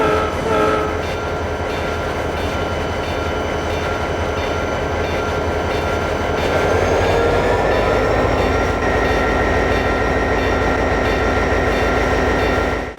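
A passenger train departs with a continuous heavy rumble and rolling rail noise, a tonal horn-like hum swelling midway, loud and close throughout without speech.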